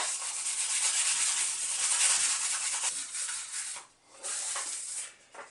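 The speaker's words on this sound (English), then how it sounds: "you're spending half an hour, 45 minutes just sanding and buffing it" Steady, close-up sandpaper rubbing rust off a steel sword blade, a continuous hissy scraping that pauses briefly near the end before resuming.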